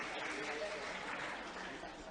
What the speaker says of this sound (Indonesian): Tepuk tangan dong buat teman-temannya.